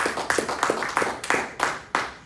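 A church congregation claps in steady rhythmic unison during a sermon, roughly three beats per second, loud and close, with no talk over it.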